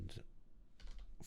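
Three quick bursts of keystrokes clack on a computer keyboard, faint and close, with short pauses between them.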